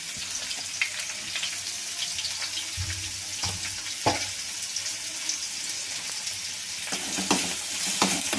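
Onions and green chillies frying in oil with cumin seeds for samosa filling, a soft continuous sizzle with scattered crackles and a few utensil knocks and stirring scrapes, fairly quiet and without talk.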